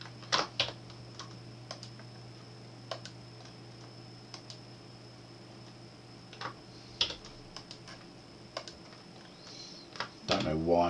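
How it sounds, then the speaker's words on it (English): Keys clatter on a computer keyboard in scattered short bursts of clicks, close and fairly quiet, with a steady hum beneath and a louder flurry of taps at the end. "So I'm clicking in the boxes and just typing the question numbers."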